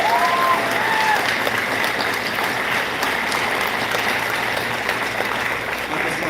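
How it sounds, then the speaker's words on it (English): Festival concert audience applauding at the Magic Valley Fork Festival, a steady wash of clapping holding for several seconds at even loudness with faint crowd murmur beneath. "Please give them a round of applause."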